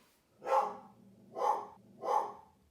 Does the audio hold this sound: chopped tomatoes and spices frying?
no